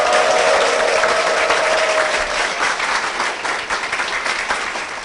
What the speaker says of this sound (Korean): 박수를 맞아주십시오.